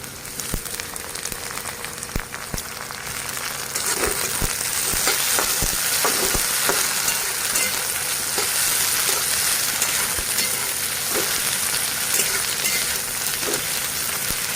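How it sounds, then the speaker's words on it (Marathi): Chopped onion and tomato fry in a pan for a Marathi cabbage sabzi, giving a loud, steady sizzle with scattered small pops and stirring clicks throughout, no voices. "आपला कांदा छान असा तळला त्यात टोमॅटो टाकून घेऊ"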